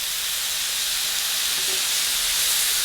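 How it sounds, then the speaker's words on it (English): Water splashed into a very hot pan holding chicken, throwing off a steady, close hiss of steam that holds level throughout. "You honestly just add a little bit of water to the pan"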